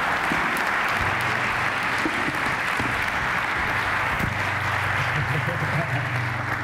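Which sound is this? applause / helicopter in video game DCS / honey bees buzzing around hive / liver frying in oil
applause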